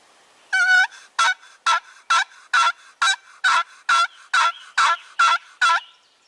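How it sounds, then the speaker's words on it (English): Turkey box call worked by a hunter in spring woods, about a dozen sharp, evenly spaced raspy yelps in a steady rhythm, loud and close against near silence. "Time to do a little more yelping on the box call."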